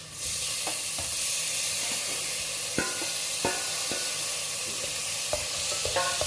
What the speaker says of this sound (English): We nicely thoroughly stir it.